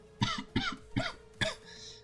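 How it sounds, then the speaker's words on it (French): Four harsh coughs in a row, fairly close and loud, with a short gap between each, the last trailing off into a breathy rasp. "depuis en fait ce matin, je tousse pas mal"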